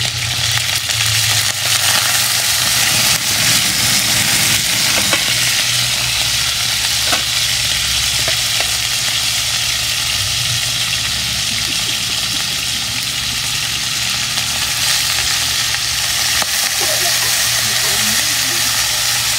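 Ingredients for adobong kangkong frying and toasting in a pan, a steady loud sizzle with occasional stirring scrapes and clinks, a voice faintly underneath.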